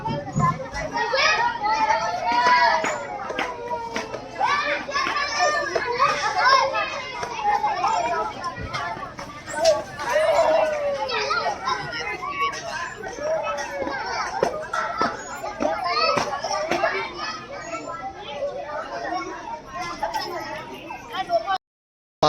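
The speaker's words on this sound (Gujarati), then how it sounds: "અહીંયા બાળકો રમે છે।" Children play in a garden playground at a lakeside temple, a continuous mix of shouting, laughing and chatter from many young voices, lively and fairly close throughout.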